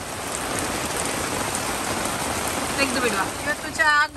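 Steady rain pours down outdoors during open-air cooking, a dense continuous patter on surfaces that stays even throughout, with a few brief clattering sounds near the end.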